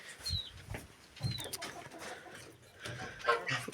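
Chickens cluck in a coop, a few short clucks and calls scattered across a few seconds, fairly faint against low background noise.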